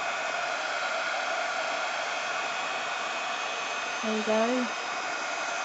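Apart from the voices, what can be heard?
heat tool melting embossing powder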